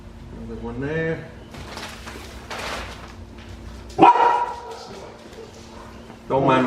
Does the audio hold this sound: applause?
no